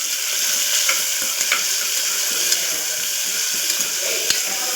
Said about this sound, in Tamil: ஆனியன் கட் பண்ணதும் நம்ம போட்டாச்சு இதை நம்ம நல்லா வதக்கிக்கலாம்